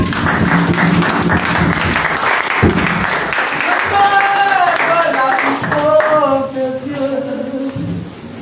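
A crowd at a Sunday church service claps and cheers loudly while voices call out, then the clapping thins as singing and music rise above it.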